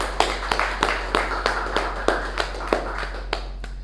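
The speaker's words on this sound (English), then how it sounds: "Let's give a big round of applause to our president." Members at a club meeting give their president a round of applause, a modest gathering clapping in fairly regular, distinct strikes over a low steady hum.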